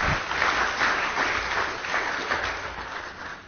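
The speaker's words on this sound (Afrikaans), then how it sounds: "Klap vir hulle hande en sê vir hulle welkom" A church congregation claps its hands in welcome, dense steady applause from many people that fills the room for a few seconds, with no voices standing out.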